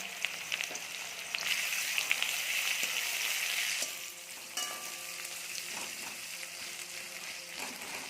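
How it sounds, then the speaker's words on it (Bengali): Onion frying lightly in oil in a pan after dried and green chillies, for a mustard greens curry; a steady close sizzle with occasional stirring scrapes, softening partway through. "পেঁয়াজটাকে একটু আমরা হালকা ভাজা দিয়ে নেব"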